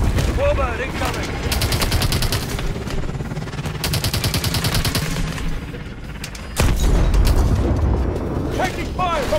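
Combat in the video game Call of Duty Advanced Warfare: loud, continuous automatic gunfire in rapid bursts mixed with heavy booms and a sudden louder blast. Voices speak over the battle.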